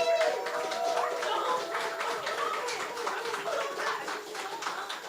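An audience at a poetry marathon fundraiser applauds for a poet with steady, dense clapping and scattered voices for about five seconds, slowly fading toward the end.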